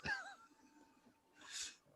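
A single short sneeze bursts out at the start, with a second hissy, breathy burst about a second and a half later. Both are near and moderately loud against a quiet room.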